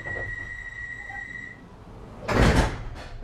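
Doors of a London Underground 1972 Stock Bakerloo line train close with a loud, brief thud and rumble, after a steady high warning tone that cuts off just before, heard from inside the carriage.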